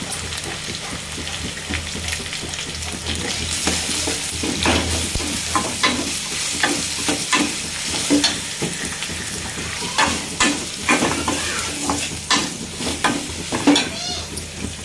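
Cumin seeds crackle and sizzle in hot oil in a pan, a steady frying hiss broken by repeated scraping strokes of a spoon as it is stirred, close and fairly loud.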